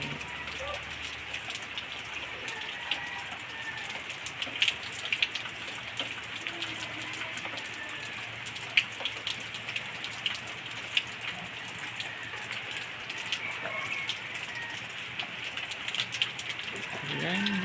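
Heavy rain pours down in windy, storm-like weather, a steady close hiss of drops on surfaces with occasional louder patters throughout.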